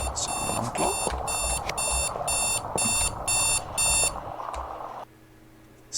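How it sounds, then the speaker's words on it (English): A ringing alarm clock sounds in loud, evenly spaced bursts of shrill beeping that stop abruptly, leaving a quiet low hum. "So, alarm clock?"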